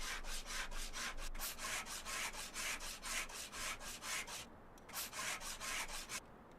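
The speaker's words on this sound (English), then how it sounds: "Never like sanding metal." Rhythmic back-and-forth sanding of metal car bodywork in Car Dealer Simulator, a fast steady run of rasping strokes, close and loud, with a brief pause near the end before resuming.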